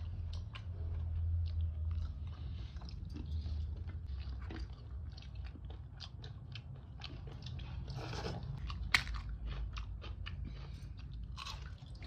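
Someone crunches chips with a savoury mixture close to the mic, producing a continuous run of small crisp bites and chewing crackles over a low background hum, with no talk.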